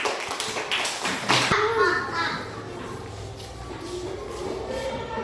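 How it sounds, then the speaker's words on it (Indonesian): Primary school pupils in a fourth-grade class clap for a classmate at the blackboard, a quick burst of claps near the start that fades out as children chatter and move around the room. "Tepuk tangan dulu buat Patlin."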